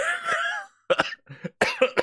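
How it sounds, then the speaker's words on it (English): Several harsh coughs in quick succession, close by, after a brief vocal sound and a pause; the coughs come in short, rough bursts. "I'm getting a cough going on here."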